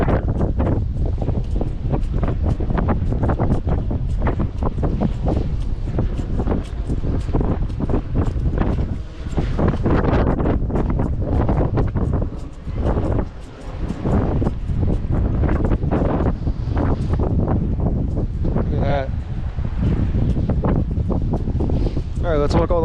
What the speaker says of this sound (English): It's getting windy, that's for sure.